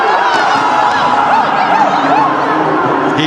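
A large crowd at an India vs New Zealand T20 World Cup cricket match, cheering and chattering loudly and steadily throughout, with whistles and shouts rising above the roar.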